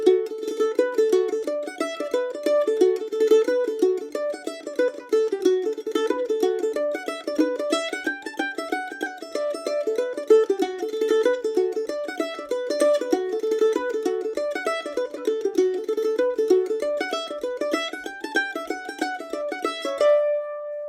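A mandolin plays the Celtic tune The Silver Spear alone, a steady run of quick, bright picked notes with a lilting reel rhythm held at an even, moderate level throughout.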